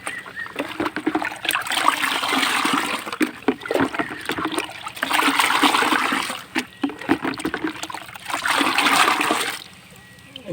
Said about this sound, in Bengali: এই পানিটা সমানভাবে ভাগ করে দেওয়ার চেষ্টা করবো